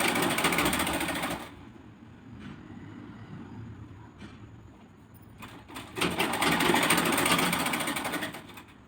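Sewing machine running along the edge of a sari, loud steady stitching bursts at the start and end with a quieter pause in between, no talking.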